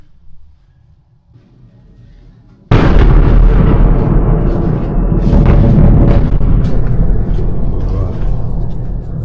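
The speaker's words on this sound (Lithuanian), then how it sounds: "Neaišku, kas čia sproginėja." At night in Kyiv during a Russian attack, near-silence breaks into a sudden loud blast, followed by a continuous heavy roar and rumble that stays loud to the end.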